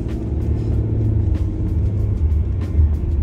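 A car is driven along an early-morning residential road in America with a steady low engine rumble and road noise close by, and nobody is talking.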